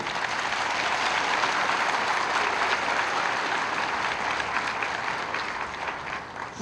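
An audience at Near East University gives a speech a long, loud round of applause, with continuous dense clapping from many hands that stays strong until it dips briefly at the very end.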